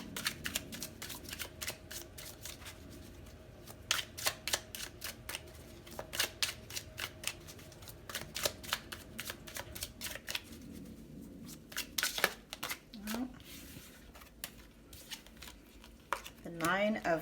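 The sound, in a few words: tarot cards being shuffled and drawn from a deck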